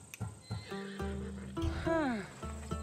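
A horse in the video game Assassin's Creed Odyssey whinnies loudly and close, a long wavering neigh preceded by snorts and hoof clops, with a voice speaking briefly around it.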